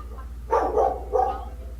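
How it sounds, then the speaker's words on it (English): A few dog barks, three short bursts at moderate loudness over a steady low hum during a boxing video game session. "Where's that barking coming from?"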